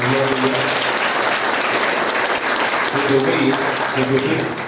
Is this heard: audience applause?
yes